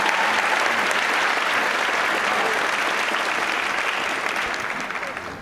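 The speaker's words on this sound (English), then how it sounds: "Let's give another round of applause." Audience applause at an Argentine tango dance competition, a steady, dense and loud round of clapping that holds for several seconds before tapering slightly at the end.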